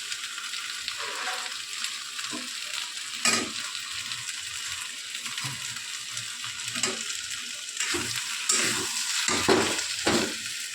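Ghee sizzling in a pan as food is fried and stirred, a steady close crackle broken by spatula scrapes and clinks against the metal, with bursts of louder sizzling near the end.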